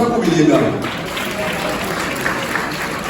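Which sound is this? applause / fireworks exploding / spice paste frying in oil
applause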